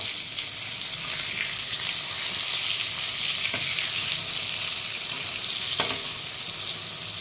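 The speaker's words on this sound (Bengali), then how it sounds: "বাড়িতে এসে বেগুন ভাজা করছি" Eggplant slices fry in a pan with a steady, dense sizzle that runs evenly throughout, close and fairly loud, with a couple of faint clicks and no voices.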